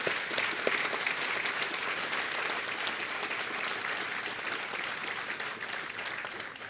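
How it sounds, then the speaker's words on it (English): Warm, steady clapping from an audience at a children's hospital fundraising celebration, even and continuous for several seconds at moderate volume. "If everybody will give everyone a round of applause"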